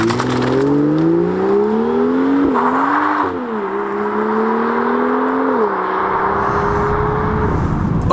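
BMW M2 with a DCT gearbox driving on the road, its engine loud and steady with rising revs and quick gear changes that drop the pitch before it climbs again, continuous throughout.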